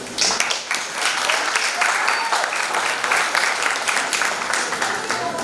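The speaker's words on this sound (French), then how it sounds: "On applaudit s'il vous plaît." Sustained applause from an audience at a birthday celebration, dense steady clapping filling the whole stretch at a fairly loud, even level.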